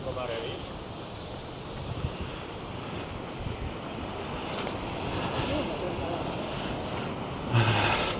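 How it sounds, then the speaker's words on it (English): Rough ocean waves break and wash continuously against the shore on a windy morning, with wind buffeting the microphone and a brief louder surge near the end. "Those waves are a little aggressive this morning."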